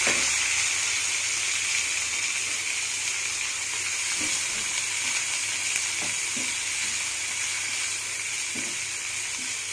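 Cinnamon pieces, cloves and fennel seeds frying in hot sesame oil in a pan, a steady close sizzle and hiss with a few faint crackles, no talking.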